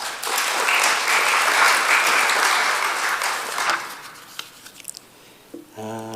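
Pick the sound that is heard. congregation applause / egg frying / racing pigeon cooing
congregation applause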